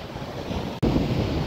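Strong wind buffets the microphone over steady surf breaking on a beach at night during cast-net fishing, loud and continuous, with a brief dropout midway.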